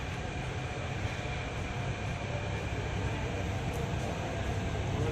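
A Delhi metro train pulls into a station platform with a steady, loud rumble and rail roar that holds evenly throughout, with no voices.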